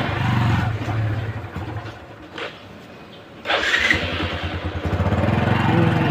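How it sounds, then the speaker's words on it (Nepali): A KTM motorcycle engine on a rainy ride runs loud and close, idling and revving with a rough mid-pitched growl and a brief dip before picking up again. "बाइक बिग्रिन आँटिसक्यो"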